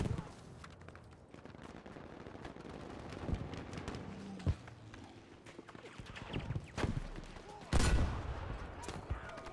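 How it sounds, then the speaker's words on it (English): Scattered gunfire in a PC shooter on a multiplayer map: distant single shots and short bursts crackle at a low level under steady battlefield ambience, with one louder close burst near the end. "Where the hell are they shooting from?"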